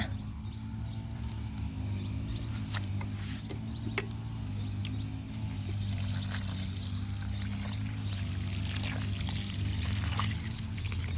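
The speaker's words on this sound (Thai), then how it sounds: "แล้วก็นำมาราดรดที่ดินของเราได้เลยนะคะ" Water pours from a watering can onto a homemade potting soil mix, a faint, steady splashing wash that runs throughout, with light bird chirps in the background.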